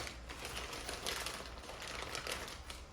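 Crinkly plastic rustling as a bag of extremely spicy chips is torn open, a dense, continuous crackle at close range with slight swells, heard alone.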